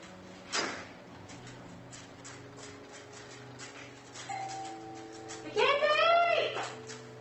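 A front doorbell rings in a quiet house, a sustained tone near the middle and then a louder warbling chime that rises and falls for about a second before fading.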